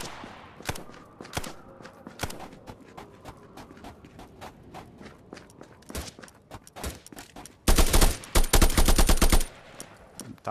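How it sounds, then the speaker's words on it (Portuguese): Gunfire in the VR co-op shooter Contractors on Oculus Quest 2: scattered single shots and short bursts, then a dense, loud stretch of rapid automatic fire before sparser shots return. "Deixa os caras atirar."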